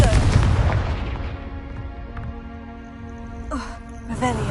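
A Confringo fire spell from Hogwarts Legacy on PS5 bursts with a loud boom at the start, then softer pops and whooshes follow over a humming musical game backdrop.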